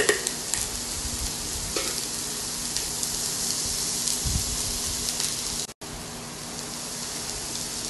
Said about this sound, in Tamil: சோ மீடியம் ஃப்ளேம்ல வெச்சு நல்லா வதக்கி விடுங்க.